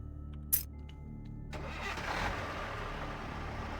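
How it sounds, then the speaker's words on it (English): A tractor engine in Vampire: The Masquerade - Bloodlines cranks and catches after a brief sharp knock, then settles into a loud, rough, steady idle that swells slightly before holding, with no voices. "You hear the tractor turn on and then bash into the side of this thing."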